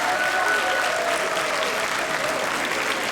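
Loud, dense applause from a large crowd at an Indian Independence Day program, continuous and even throughout, with no talk rising above it.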